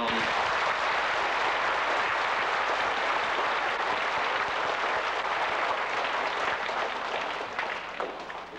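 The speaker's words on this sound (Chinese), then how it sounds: "希望大家在場的同學同我一起鼓掌，嚟到鼓勵佢哋繼續辦多啲" An audience applauds at a Macau Catholic primary school recitation show, a dense, sustained wash of many hands clapping that holds steady for several seconds before starting to thin out.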